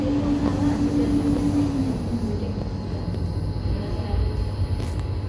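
Inside an LRT Jakarta light-rail train switching tracks after leaving Velodrome terminus, a loud steady rumble and hum as a tonal motor whine fades out while power briefly drops.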